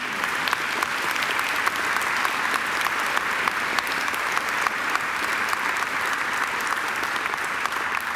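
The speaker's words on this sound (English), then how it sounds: "I think she deserves another great round of applause." A large graduation ceremony audience applauds steadily, a dense, even wash of many hands clapping that carries on without a break.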